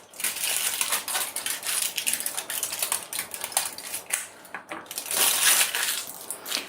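Thin aluminum foil crinkles and crackles in irregular bursts as it is peeled off the back of a circuit board, a close, continuous papery rustle with no talk.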